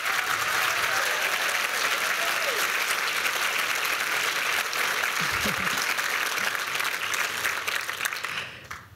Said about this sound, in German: erstens um einen wirklich kraftvollen Applaus für dich